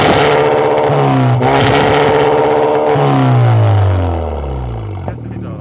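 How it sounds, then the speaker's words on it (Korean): Kia K5 2.0 turbo GT Line revving in place with its variable exhaust valve open: loud, close throaty engine note rising and falling through repeated rev blips, then settling toward idle at the end. "지금 가변 배기 켰고요."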